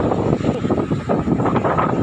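Wind sweeps across a beach on Siargao Island, a steady, fairly loud broadband rush and rumble against the microphone with no voices over it.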